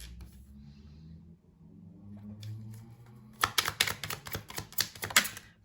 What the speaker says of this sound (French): je vais tirer quelques cartes de tarot